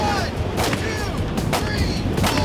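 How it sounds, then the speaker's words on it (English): Rapid gunshots fired at a road surface so the bullets ricochet, about three sharp cracks with whining bounces trailing after some of them, under a steady outdoor rumble with voices in the background. "a barrage of bouncing bullets"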